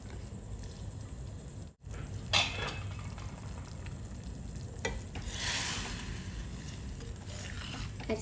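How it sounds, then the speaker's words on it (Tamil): Soaked basmati rice is stirred into water in a pot for a soya chunk biryani, with scraping and sloshing stir strokes over a quiet simmering background, close by and without talk. "அரிசியை சேர்த்து நல்லா மிக்ஸ் பண்ணிக்கோங்க."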